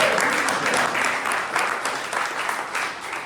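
A school audience claps steadily for a team's record win total, a dense and fairly loud patter of many hands with no speech over it.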